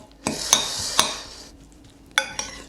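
Buldak Bokkeum Myun noodles being mixed in a pan: a few sharp clinks of a utensil against the pan over a soft wet stirring noise, close and fairly loud.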